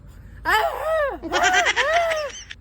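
A goat bleats loudly and close by, giving two long wavering calls in quick succession with a brief pause between them.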